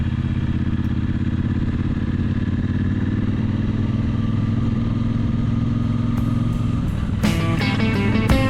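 Sidecar motorcycle climbing a big hill on back roads, its engine a continuous loud droning rumble throughout, with a burst of rattling clatter and rising mechanical noise near the end.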